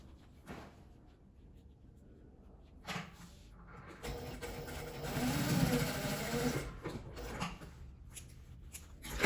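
A sewing machine runs in a sustained burst, stitching a seam across the top of a zippered half-moon pouch lining, preceded by quieter handling and fabric noises.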